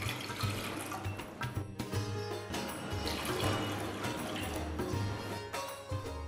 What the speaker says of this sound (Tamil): சாஸ்பேனில் 3 கப் தண்ணி ஊற்றி